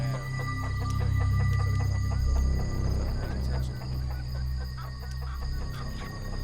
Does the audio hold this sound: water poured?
no